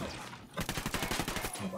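Turret machine gun in Ghost Recon hammers out a sustained rapid burst after a short quiet lead-in, dense repeated shots loud and close, with a voice briefly under the fire.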